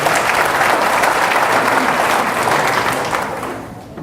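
Audience at a 2014 Arizona gubernatorial debate bursting into loud, sustained applause from a packed room, steady clapping that tapers off toward the end.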